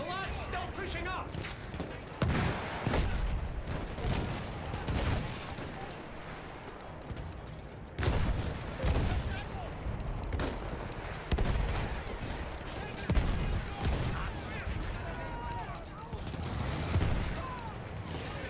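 Field guns shell and rifles fire in the World War I shooter Battlefield 1, with rapid bursts and heavy thuds repeating throughout, mixed with shouting and voices.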